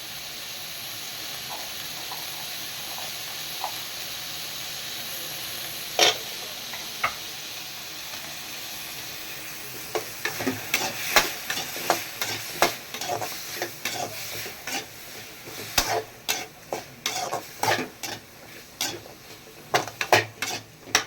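Small onions (shallots) sautéing in a pan for mutton biryani, a steady sizzle at first, then busy, rapid scraping and clattering of a spoon stirring against the pan, close and without talk.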